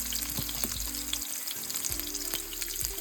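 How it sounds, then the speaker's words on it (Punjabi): Masala spices frying in a pan for paneer lababdar, a steady close sizzle with soft crackles and occasional stirring scrapes, no voices. "ਜਿੰਨੀ ਦੇਰ ਇਹ ਮਸਾਲਾ ਆਪਾਂ ਭੁੰਨਦੇ ਰਹਾਂਗੇ ਇਹਨਾਂ ਦਾ ਜਿਹੜਾ ਅਸਰ ਹੈ ਇਹਦੇ ਵਿੱਚ ਨਿਕਲਦਾ ਰਹੂਗਾ"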